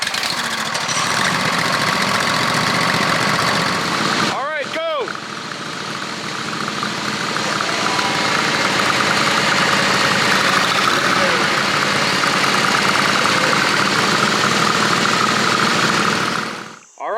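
Several riding lawn mower engines, including an L120, run loudly and steadily at a mud tug-of-war, droning with a knocking rumble, with a short revving swell early on before cutting off at the end.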